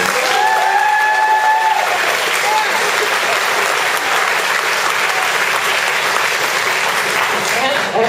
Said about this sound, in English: I heard a whole room full of people applaud for the birds of Lincoln Park